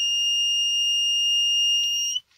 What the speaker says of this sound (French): Ça, les bip bip, c'est parce que mon grip fil rouge doit pas bien tenir